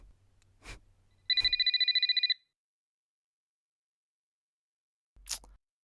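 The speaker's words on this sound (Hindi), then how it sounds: "आपका फोन कितनी देर से बज रहा है" A mobile phone rings once in a quiet room, a short burst of rapid, bright electronic trills lasting about a second, with a few faint clicks before and after.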